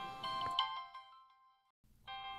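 A mobile phone ringtone for an incoming call: a bright melodic electronic phrase plays, falls quiet for a moment, then starts again, loud and clear with no talk.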